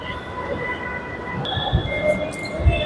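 A Delhi Metro train moves through a station on the way to Karol Bagh, a steady rail rumble with high squealing wheel tones and a few thumps, loud and close, with no voices.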